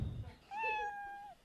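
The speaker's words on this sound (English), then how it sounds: "you know that your 60 seconds is up when you hear that meow of a kitty" A single cat meow used as a time-up sound cue at a comedy show, clear and drawn out for almost a second after a brief low rumble.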